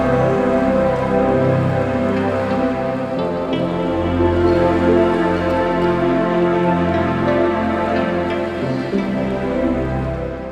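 Aanachadikkuthu waterfall in Thodupuzha, Idukki, in the rainy season, roars loud and close as a dense, unbroken wash of falling water with no voices.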